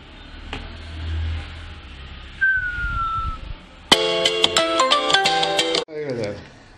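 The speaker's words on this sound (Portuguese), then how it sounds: "O telefone tocou aqui" A mobile phone rings near a wristwatch water-resistance test, with a bright multi-tone ringtone bursting in loud for about two seconds, then cutting off. Faint background noise and a brief whistle-like tone come before it.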